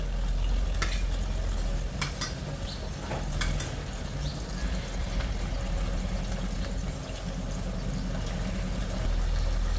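Mutton frying in oil with turmeric and salt, a dense close sizzle with bursts of scraping and clatter from stirring in the pan, continuous throughout with no talking.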